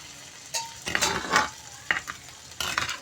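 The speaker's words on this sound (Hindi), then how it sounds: "अब इसके अंदर हम दाल ऐड कर देंगे।" Chana dal tipped into hot melted ghee in a pan, giving a few short bursts of sizzling and stirring scrapes separated by quieter gaps, close and moderately loud.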